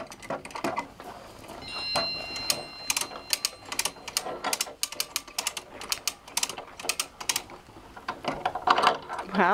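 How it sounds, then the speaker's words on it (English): A pulley system clicks and ratchets in quick, irregular bursts of sharp mechanical ticks while wood is bent for a boat, close and loud with brief pauses between runs. "Wow, you have a pulley system even."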